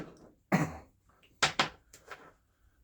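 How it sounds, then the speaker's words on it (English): A person coughs a few times in short, sharp bursts with brief throat-clearing sounds between, close and otherwise quiet. "A little bit of a cough."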